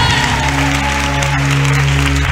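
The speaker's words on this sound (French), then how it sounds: "Look at the way you're clapping." A congregation at a church testimony service claps in a dense, loud, continuous patter, with sustained musical tones or hum running underneath.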